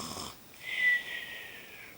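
A Gruffalo's snore during a children's story reading, voiced by a person imitating the sound: one drawn-out, breathy rasp lasting over a second, fairly close and alone after a short bit of talk.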